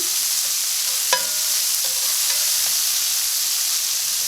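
Chopped onion frying in a pan while being stirred, a steady broad sizzle throughout with a sharp utensil knock on the pan near the start and a few fainter scrapes.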